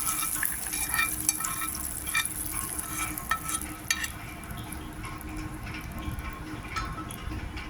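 Cumin seeds sizzling in hot tempering oil over urad dal and asafoetida for a cucumber chutney, a steady close crackle and hiss throughout with a few sharper pops, no talking.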